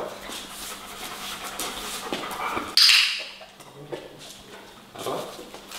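An assistance dog in training pants in quick, soft breaths, with faint whimpering and a brief sharp clatter partway through, mostly steady and close.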